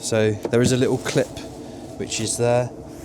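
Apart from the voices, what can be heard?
No everyday noises stand out.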